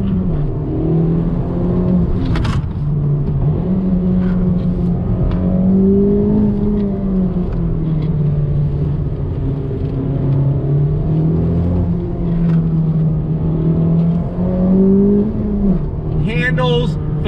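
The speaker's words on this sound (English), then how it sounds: "All right, guys, one more time for you on throttle." A Honda Civic Type R engine pulls at full throttle from inside the car, a loud, steady droning growl that rises and falls in pitch as it accelerates through the revs.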